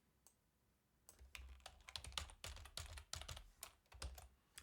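Steady bursts of typing on a computer keyboard while entering settings during a virtual machine install, irregular clattering keystrokes up close after a brief quiet start, with no talking.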